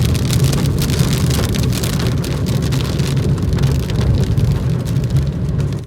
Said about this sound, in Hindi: ये देखो भाई बरसात